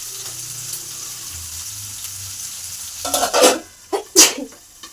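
Stuffed brinjal curry simmers in a pan with a faint low bubbling, then a few loud scraping and clattering bursts as it is stirred, close and without speech.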